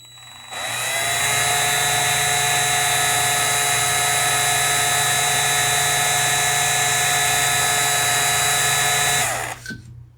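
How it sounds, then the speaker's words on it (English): A power drill with a 1/16 bit runs steadily and loudly for about nine seconds, boring into a post on a 1974 Hot Wheels Heavy Chevy Camaro toy car, with a high sustained whine that winds down at the end. "So we're just going to take the same drill bit, same size, 1/16, and lightly go down in it."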